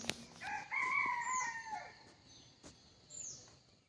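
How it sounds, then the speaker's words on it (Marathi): A rooster crows at 6:45 in the early morning, one drawn-out call, with a faint second crow and scattered bird calls around it, quiet and somewhat distant in a calm outdoor setting. "पाखरांची किलबिल आजूबाजूला आणि नेहमीसारखं प्रसन्न वातावरण आहे।"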